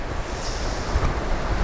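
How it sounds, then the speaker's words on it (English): Ocean waves rush and wash around a racing sailboat at sea, with a constant noisy roar mixed with heavy wind buffeting. "Lots of waves."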